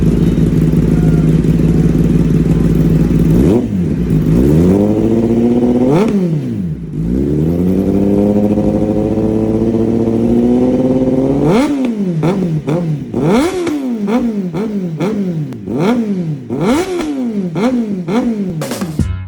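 A Kawasaki ZX-10R sport motorcycle with an upgraded exhaust idles with a deep rumble, then is revved repeatedly in sharp, loud bursts that rise and fall.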